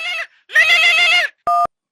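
A mobile phone rings loudly and close with a bright electronic melodic ringtone in short bursts, a brief chirp, a longer warbling phrase, then a clipped tone.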